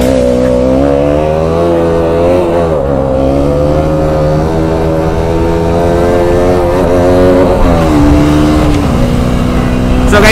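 A motorcycle carrying a passenger revs hard for a wheelie, its engine loud and close with a rising and falling droning whine that holds steady throughout.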